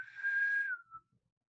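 A voice imitates an alien whistling through cupped palms: a single faint, hollow, steady whistled note that bends downward and ends in a short second chirp.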